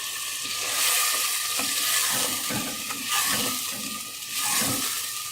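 Mutton curry sizzling in a pan for palak gosht as yogurt is stirred in, a steady close frying hiss with soft repeated stirring scrapes and no talk.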